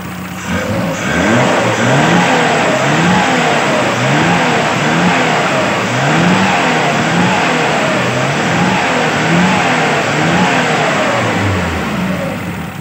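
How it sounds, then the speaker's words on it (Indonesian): Daihatsu Zebra engine after carburetor tuning, revved repeatedly up and down close by, loud rising and falling engine tone in a steady rhythm of throttle blips with no talk. "Kita coba kita hidupkan mesinnya. Dan ini kita gas-gas."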